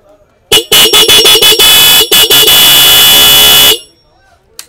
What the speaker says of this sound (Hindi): तो ये थे हॉर्न के साउंड।